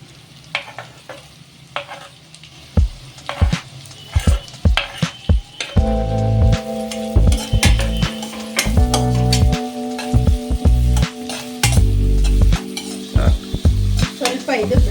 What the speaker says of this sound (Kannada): ಸ್ವಲ್ಪ ಇದು ಬ್ರೌನ್ ಕಲರ್ ಬರೋ ತನಕ ಹುರ್ಕೊಳ್ಳಿ